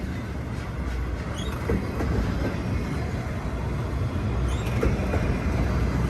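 A long freight train passes at Verdemont with a loud, steady rumble of wagons and faint wheel squeals, a continuous roar close by.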